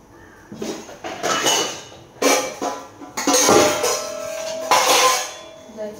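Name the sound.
cooking pot with rice being handled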